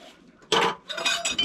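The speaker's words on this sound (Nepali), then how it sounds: "भाँडा धुने काम" Dishes, pots and cutlery clink and clatter during washing up in a Nepali home kitchen, two short bright bursts of metal and ceramic knocks close by, with a quiet pause between them.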